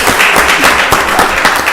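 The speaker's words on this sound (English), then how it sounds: "Y'all give him a round of applause." Dense, loud applause from a crowd at a county board of commissioners voting session, many hands clapping at once in a continuous roar with no voices.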